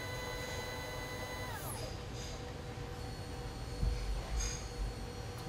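An automated camera head rotates a full 360 degrees, giving a faint motor whine that holds steady, then glides downward in pitch, over low mechanical rumble with a few soft knocks.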